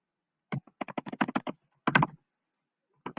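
Code typed on a computer keyboard, with quick bursts of clicky keystrokes separated by short pauses, close and clear against silence.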